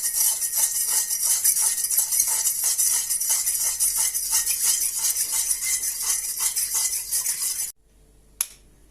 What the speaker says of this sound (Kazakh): Соны біраз араластырамыз.